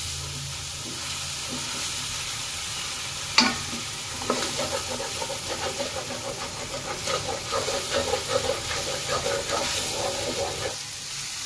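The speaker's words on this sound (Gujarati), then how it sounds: "ડુંગળી આદુ મરચાં લસણની પેસ્ટ બનાવી હતી એને શેકી નાખીએ પાંચ મિનિટ" A paste of onion, ginger, green chili and garlic fries in a pan with a steady hiss and sizzle, while a spoon stirs and scrapes in quick bursts near the mic; a voice is faintly present.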